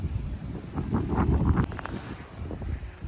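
Strong, cold wind blows outside, rushing and buffeting a nearby microphone in uneven gusts, with a sharp crackle midway and no one speaking.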